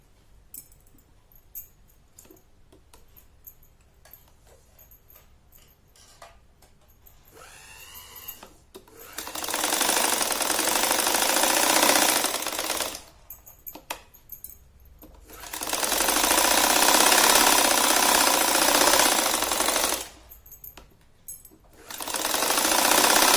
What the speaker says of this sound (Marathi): हे आधी आपण ती चारी बाजूनं आधी शिवून घेऊ तीन बाजूनं आधी एकमेकांना जोडून घ्यायचं